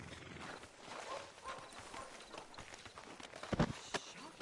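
Horse hooves clip-clop in a video game, a soft irregular patter at a walk, faint under background noise, with a couple of louder thuds near the end.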